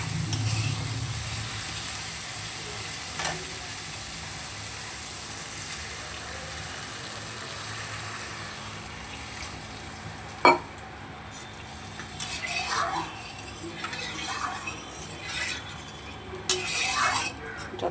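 Water poured into sizzling spice paste for a Bengali fish curry, with a spoon stirring and scraping the pot; steady frying hiss, a sharp clink near the middle, then bubbling and stirring sounds toward the end, no talking.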